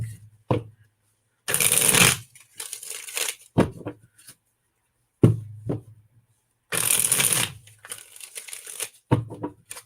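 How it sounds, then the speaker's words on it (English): Quick bursts of cards being riffled and shuffled, a few long riffles and several short ones separated by quiet pauses, close by. "Let me get these all shuffled up here really quick."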